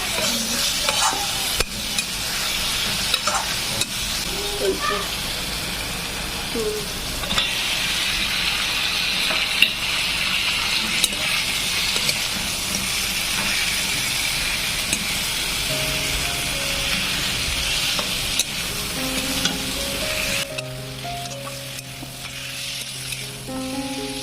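Fish heads frying in hot oil with ground cumin, coriander and garam masala, giving a loud, steady sizzle with occasional stirring that eases off near the end.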